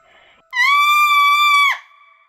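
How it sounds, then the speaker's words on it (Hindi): A loud, piercing scream effect from a horror story, one sustained high-pitched cry lasting just over a second that ends in a sharp downward break, standing alone after faint background sound. "तभी पीछे से एक जोरदार चीखने की आवाज आई।"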